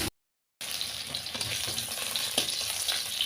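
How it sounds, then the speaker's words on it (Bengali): Potato pieces fry in hot oil with a continuous close sizzle and crackle, broken only by a brief gap at the start. "আমি এই তেলের মধ্যে আলুটাকে ভেজে নিচ্ছি"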